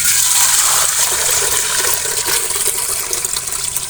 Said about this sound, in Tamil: தண்ணி ஊற்றி வச்சுக்குவோம் தண்ணி சூடேறட்டும்